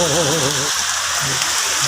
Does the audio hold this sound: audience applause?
no